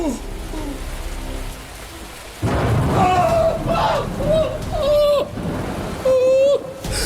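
Hail pounds down in a loud, dense clatter with deep thunder-like rumbles, while a voice shouts over the storm.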